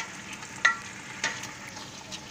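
Garlic frying in a pan for adobo in a home kitchen: a steady soft sizzle with two brief louder bursts, likely from stirring, close by and with no talking.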